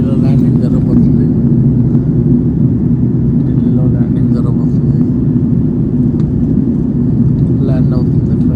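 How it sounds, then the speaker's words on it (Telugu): An airplane comes in to land at Delhi's Indira Gandhi International Airport, filling the clip with a loud, steady, unbroken engine roar and low rumble. "ఢిల్లీలో ల్యాండింగ్ జరగబోతుంది."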